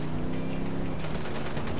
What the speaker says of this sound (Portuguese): atirando nesses postes